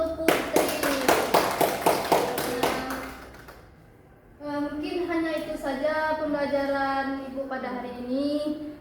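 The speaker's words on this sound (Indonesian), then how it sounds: "Tepuk tangan dulu" A burst of hand clapping from a class of students, rapid and fairly loud, fading after a few seconds, followed by a voice speaking.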